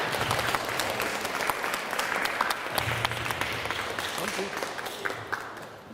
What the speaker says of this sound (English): And let's go ahead and give Miss Bosselman's class a round of applause.